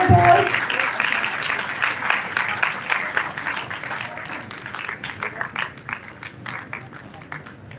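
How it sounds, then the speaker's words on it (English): Audience applause welcoming guests at an event at Panipat Institute of Engineering & Technology: a loud burst of many hands clapping that gradually thins into scattered individual claps, with some talk faintly underneath. "Everyone, please give a huge round of applause."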